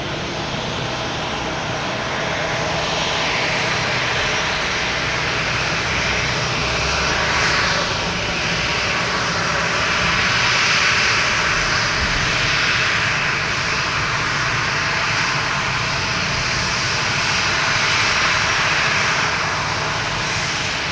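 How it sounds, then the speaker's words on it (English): Jet airliner in oneworld livery taxiing in to park at Boston Logan, a steady close engine whine and rumble holding for the whole stretch with slight swells, no voices. "And there's that One World coming in. They're parking right in front of us."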